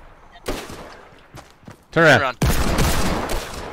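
Fortnite gunshots crack in sharp, separate bursts, with a dense loud volley near the end, while players talk excitedly between shots.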